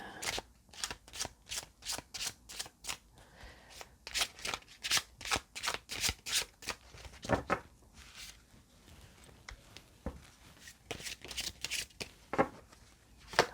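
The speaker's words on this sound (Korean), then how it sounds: "자, 카드를 좀 정비할게요." Tarot cards shuffled and arranged by hand, a quick run of crisp, regular riffling snaps followed by looser slides and taps of the deck, close and clear with no talking.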